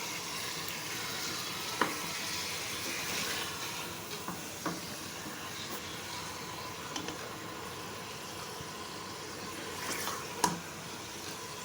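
Mutton browns in a pan for a gravy masala, a soft, steady sizzle with a few faint clicks and stirring taps, quiet and continuous.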